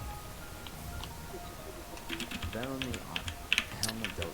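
Computer keyboard keys clatter in scattered bursts of clicks during a Hollow Knight speedrun, mixed in with someone talking and game sound.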